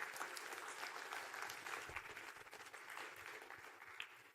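An event audience claps for the sponsors, a fairly faint, steady wash of applause from a room of people, heard at a distance without talk.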